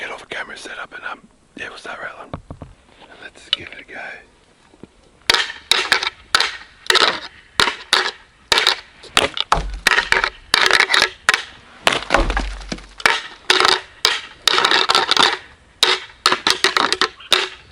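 Branches rattled together and snapped in the woods during the deer rut to imitate fighting bucks: loud, irregular clattering and sharp cracking bursts follow a quieter, scratchy start, close by and with no talk.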